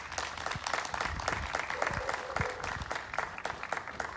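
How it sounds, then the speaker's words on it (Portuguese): A church congregation applauds during an online worship service, dense steady clapping filling the room for several seconds, with a faint voice underneath. "Você pode dar uma forte salva de palmas ao nosso Senhor"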